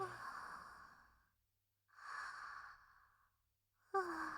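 A sleeping character in a game snores deeply, slow breaths in three long drawn-out bursts separated by silent pauses, heavy and close, alone in a quiet scene.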